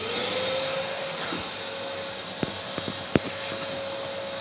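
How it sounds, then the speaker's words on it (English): A vacuum cleaner hoovers dust from a workbench, a steady loud whine with a sustained tone, punctuated by a few sharp clicks and knocks as debris is sucked up. "so let's give that a quick hoover"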